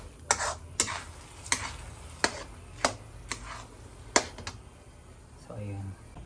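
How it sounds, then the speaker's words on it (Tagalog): A spoon scrapes through thick sticky rice suman mixture in a pan at a slow, regular pace, about six close strokes over faint background hiss, followed by a brief voice at the end. "Kailangan siya haluin lang ng haluin kasi para hindi masunog yung pitan niya."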